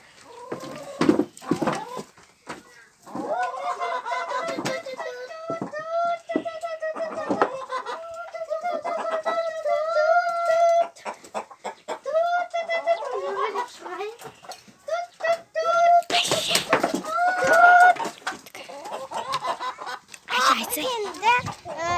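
Chickens cluck and squawk in a busy yard, with repeated calls coming close and far, while people talk and move around nearby.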